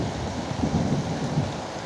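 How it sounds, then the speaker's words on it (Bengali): Heavy rain pours down in Dhaka, a dense, steady roar of water drumming on surfaces with a low rumble beneath, continuous and loud with no voices. "দেখেন প্রচুর পরিমাণে বৃষ্টি"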